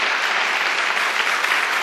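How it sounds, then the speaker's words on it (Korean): Congregation at a church youth conference claps together in a brief, dense burst of applause, loud and steady across the whole moment with no voices over it. "우리 하나님께 영광의 박수를 돌립시다."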